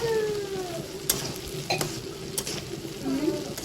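Garlic sizzles in hot oil in a pan for a village-style goat head and leg sambar, a steady crackle with a few scraping stirs and no talk.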